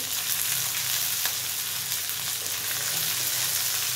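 Gawar beans fry with salt, turmeric, chili and masala, giving a dense, even sizzle that holds steady at close range with faint stirring underneath and no talk.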